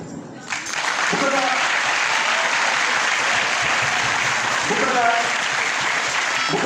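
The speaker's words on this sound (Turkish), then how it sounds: "Ama önce siz alkış alın." An audience claps steadily and loudly for several seconds, a dense wash of applause that starts abruptly and holds without pause.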